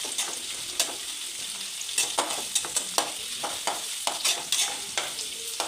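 Sliced bitter gourd fries in a little oil for pickle while being stirred, a close, continuous sizzle broken by repeated sharp scrapes and clinks of the spoon against the pan.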